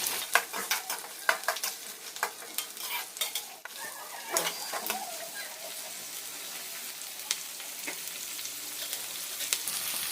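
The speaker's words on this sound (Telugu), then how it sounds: "ఎర్రగడ్డలు వేసుకొని ఫ్రై చేసుకోవాలి. లో ఫ్లేమ్లో పెట్టుకొని వేసుకోవాలి." Onions fry and sizzle over a low flame in a pan for lemon rice, giving a soft steady crackle with scattered stirring clicks, heard close and fairly quiet.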